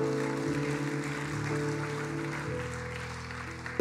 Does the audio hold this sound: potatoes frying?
no